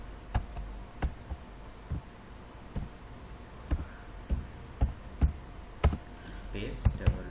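Keys tapped one at a time on a computer keyboard while a Python version command is typed into the command prompt, about a dozen distinct clicks in an irregular rhythm, close and fairly clear over a quiet room.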